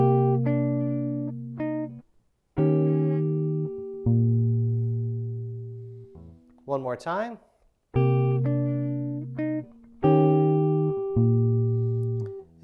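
Fingerstyle jazz guitar works through a measure of a tune, ringing chord voicings with a walking bass line, a brief speaking voice cutting in midway before the chords resume, close and clear.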